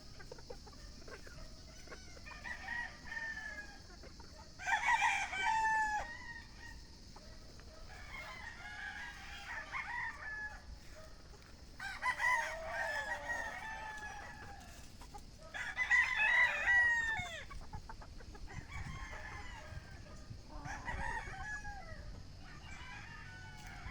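Several game-farm hens and pullets cluck and call in bursts over a steady insect-like drone, with crowing and squawks from a broodcock rooster and other birds nearby outdoors in a range area.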